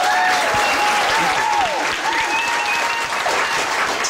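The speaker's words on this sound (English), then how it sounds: "a little round of applause" A studio audience applauds after a live performance, giving sustained, even clapping throughout, with faint voices under the applause.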